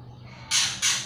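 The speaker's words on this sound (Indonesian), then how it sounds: "Maafin aku ya kalau ada suara-suara burung karena emang burung beneran yang bunyi." Two harsh bird squawks sound outdoors in quick succession, short and moderately loud against a quiet background.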